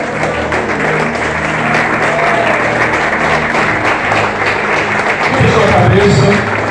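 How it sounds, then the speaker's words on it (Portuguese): A congregation applauds in steady, dense clapping that fills the room, with voices rising over it toward the end. "Vamos aplaudir o Senhor."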